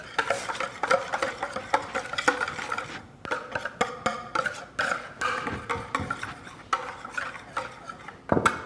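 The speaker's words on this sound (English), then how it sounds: "So we're just going to whisk this together." A cilantro sauce for fish tacos is whisked briskly in a bowl, producing a rapid, steady run of close scraping and clicking strokes that continues throughout with no talk.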